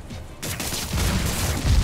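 Rocket launcher fire erupts in the Spider-Man: Miles Morales game, a sudden burst of explosive, crackling blasts that swells into a dense, booming barrage lasting through to the end.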